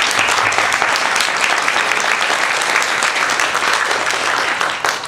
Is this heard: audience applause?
yes